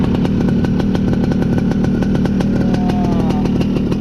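A loud Suzuki Crystal motorcycle engine with an aftermarket exhaust idles and revs, a rapid sputtering rumble close by, rising briefly in pitch near the end.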